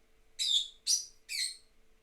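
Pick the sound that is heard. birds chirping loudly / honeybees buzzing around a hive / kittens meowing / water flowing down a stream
birds chirping loudly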